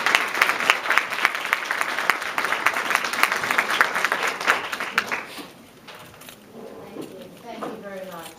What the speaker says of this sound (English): So if I can get a big round of applause for Kathleen Wu.